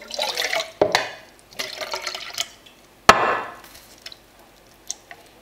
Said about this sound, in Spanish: voy a añadir aquí un poquito de agua.